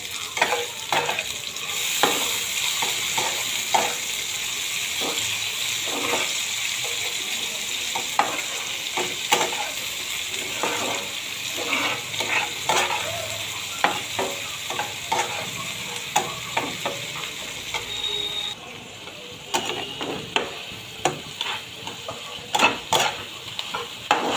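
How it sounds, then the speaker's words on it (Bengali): Chopped onions frying in a pan for a mango chicken curry, a continuous close sizzle broken by frequent sharp spatula scrapes and stirring clinks, with no talking. "এবার একটু পেঁয়াজগুলোকে লালচে বাদামি করে ভাজবো"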